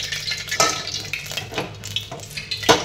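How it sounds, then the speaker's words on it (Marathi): Oil sizzling in a pan while tempering yelvani amti, close and steady, broken by several sharp metallic stirring clinks of a spoon against the pot. "येळवणीची आमटी कणी आता फोडणी देते। तेल घालूया आता।"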